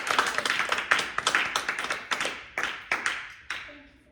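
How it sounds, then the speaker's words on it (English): A small group claps for Morgan at a pedagogy project meeting: a few close, uneven hand claps that thin out and fade over about four seconds. "Let's give her another round of applause"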